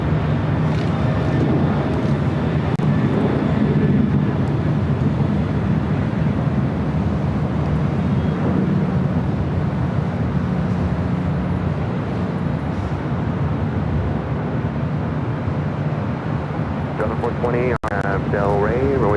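A Delta Airlines A319 airliner taxiing at LAX, a loud continuous low engine rumble and whine that holds steady throughout, with a voice talking over it.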